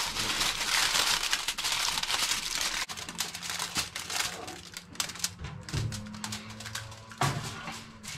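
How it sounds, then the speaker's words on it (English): Aluminium foil crinkles and rustles as two sheets are laid lengthways over a marinated Puerto Rican roast pork shoulder and tucked in, a busy, close crackling that runs steadily with a few dull thumps. "I'm going to use 2 pieces of foil and actually cover it long ways, twice like that, so I can tuck that foil right in"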